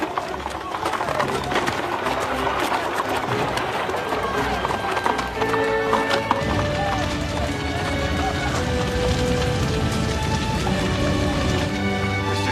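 A horse-drawn carriage rolls past with hooves clip-clopping in a quick running beat, loud and continuous, while people shout over it and a horse whinnies.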